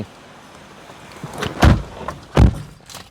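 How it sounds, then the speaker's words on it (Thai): A car door shuts with two solid thunks about a second apart, close by and loud against a quiet background, while a used car is handed over at a dealership. "อ่ะปิดประตูรถได้เลย"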